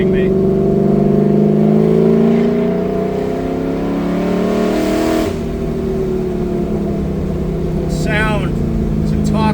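An LS3-swapped Chevrolet Camaro V8, heard from inside the car, pulls hard under acceleration, its deep harmonics climbing steadily in pitch, then easing briefly before building again, loud and continuous throughout.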